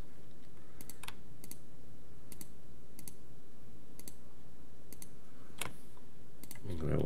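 Sharp, close clicks from a computer mouse while modelling in Maya 2018, about a dozen spaced irregularly over several seconds against a low room hum, ending with a muffled thump.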